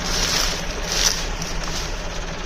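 A steady, loud tractor engine rumble runs throughout with a deep low hum and a constant mechanical drone, with no pauses and no talking.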